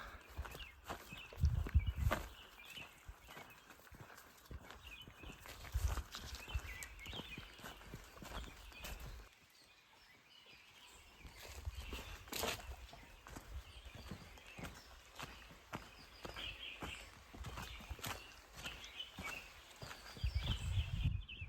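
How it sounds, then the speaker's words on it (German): Footsteps walking along a quiet forest trail on La Réunion, a steady series of near, rhythmic steps on soft ground with a brief lull midway and faint birdsong in the background. "Hört nur unsere Schritte."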